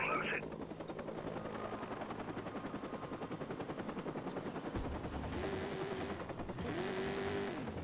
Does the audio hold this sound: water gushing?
no